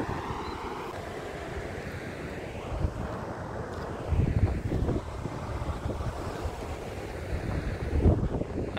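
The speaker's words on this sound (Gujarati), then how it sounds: "અહીંથી પાણી પડે છે" Water pours over the overflowing Bhakharvad dam in a broad, continuous rushing roar that swells and eases, with gusts of wind buffeting the microphone.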